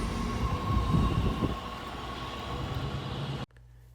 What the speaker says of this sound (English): And there goes our train, heading south to University Park.